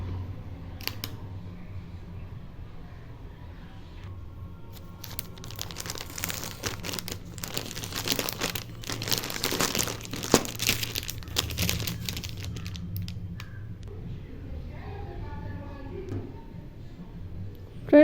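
Saree parcel being opened and unwrapped, with crinkling, crumpling and tearing of the packaging building to a busier stretch mid-clip, then quieter rustles near the end, all close by.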